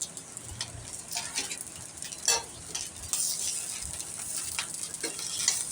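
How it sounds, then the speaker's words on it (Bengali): Khichuri ingredients with spices, green chilli, salt and turmeric fry in a pan, giving a steady close sizzle broken by repeated scraping stirs of a spatula and no talking. "সব কিছু দিয়ে ভাজিয়ে নেব ভালো করে"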